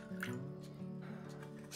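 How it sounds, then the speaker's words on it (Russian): Water poured into a bowl of onion marinade with salt and sugar, a brief, faint liquid fill and splash close by. "Заливаем это водой,"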